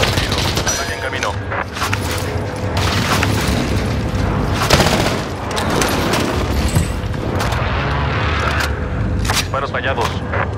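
Airstrike explosions and dense gunfire fill a battle at Lumber Yard in Verdansk '84, with repeated heavy booms and rattling bursts, close and loud, while voices talk over the chaos.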